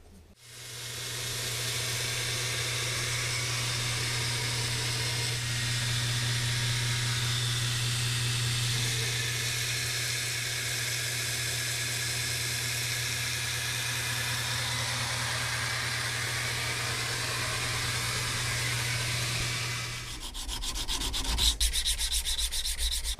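A belt grinder shapes the blade profile of a custom knife, a loud continuous abrasive hiss over a steady motor hum that runs about twenty seconds before winding down.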